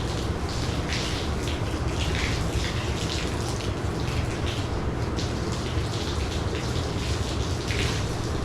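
Water trickles and patters steadily over the primed rear end of a semi truck ahead of hand sanding, a continuous close spattering like light rain on a surface, with no talking.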